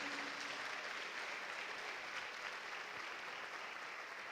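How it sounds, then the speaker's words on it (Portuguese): A church congregation at a worship service applauds steadily and loudly for several seconds, a dense, continuous wash of clapping with no voices standing out. "Aleluia, aplauda mais forte o nome de Jesus"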